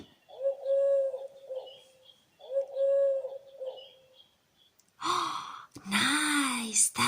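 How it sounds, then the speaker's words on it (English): Wood pigeon cooing in leafy woodland, heard as two clear repeated soft hooting phrases, followed by louder rustling, breathy sounds near the end. "Listen, can you hear a wood pigeon sing?"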